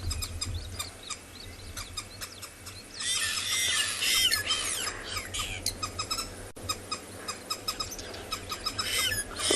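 Green wood hoopoes give squeaky, squealing calls in a dense, cackling burst at dawn on safari, loud for a few seconds and then thinning into scattered chirps from other birds.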